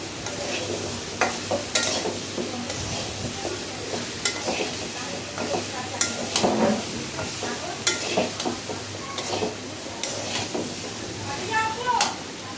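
Taro stems being sautéed in a pan while cooking a hilsa fish dish, with a steady sizzle and repeated scraping stir strokes throughout, fairly close and moderately loud.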